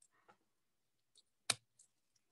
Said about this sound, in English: I love the way you can cut that just with the scissors.